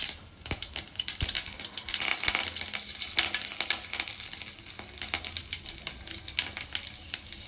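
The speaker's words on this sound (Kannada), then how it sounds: "ಆಯಿಲ್ ಹಾಕಿ ಸಾಸಿವೆ ಜೀರಿಗೆ ಆ್ಯಡ್ ಮಾಡಬೇಕು" Mustard seeds and cumin sputter in hot oil for an Andhra-style palak dal tempering, a dense, close crackle of pops and sizzle running continuously with no talk.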